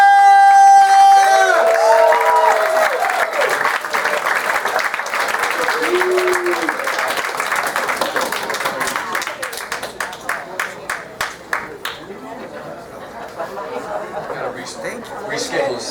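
A comedy club crowd bursts into loud applause and cheers for a comedian, with whoops and shouts over steady clapping that thins into scattered, individual claps toward the end.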